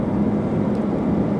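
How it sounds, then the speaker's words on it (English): A 2016 Chevrolet Volt gasoline engine idles as a steady, low, muffled hum. It is faint and even throughout, with no voices. "The engine is running."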